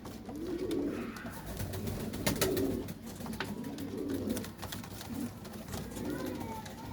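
Kasuri pigeons, a breed kept in Faisalabad, coo in low repeated throaty phrases at close range, with steady background noise and a few sharp clicks.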